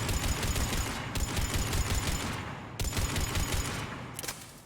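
Rapid bursts of automatic gunfire in Mass Effect 3 rattle continuously, loud and dense, with two brief pauses between long volleys.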